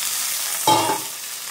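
Capsicum and tomatoes added to half-fried onions for chili chicken sizzle steadily in oil, with a short clunk and ringing utensil tone in the middle over the constant hiss.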